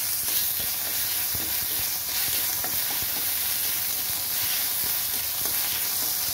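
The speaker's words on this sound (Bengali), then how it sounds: "রসুন বাটা," Garlic paste sizzles in hot oil with cumin seeds already fried, for a moong dal dish with fish head. It is a steady, close frying hiss broken by scraping stirs, with no voices.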